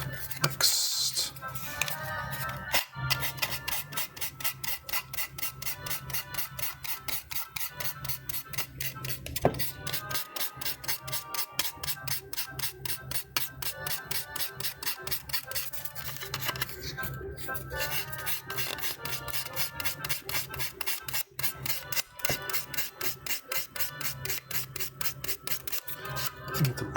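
Sandpaper rasps rhythmically against a plastic model kit part, quick repeated close strokes scratching nonstop with only brief pauses.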